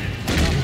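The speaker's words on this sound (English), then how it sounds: "everybody's shooting us" A brief, loud burst of blaster gunfire in the video game Star Wars Battlefront 2, dense and overlapping.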